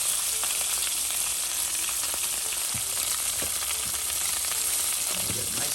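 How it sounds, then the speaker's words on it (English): Croaker fish frying in olive oil in a pan, a steady, close and continuous sizzle with faint pops and crackles running throughout, no talk. "The sizzle is very appealing."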